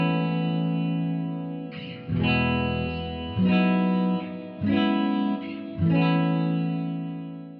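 Clean electric guitar chords ring out with a wash of reverb, played alone in several strummed phrases with sustained decays between changes.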